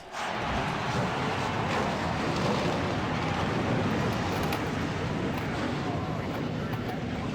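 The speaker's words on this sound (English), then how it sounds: "The thunder of 40 cars comes to life on this racetrack here" Forty stock car engines roaring to life together at the Richmond short track in a racing video game, a dense, steady, loud mechanical drone that stays constant.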